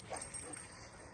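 Casper the dog gives a brief, faint whimper and soft yips, a short plaintive whine heard close by over light background noise.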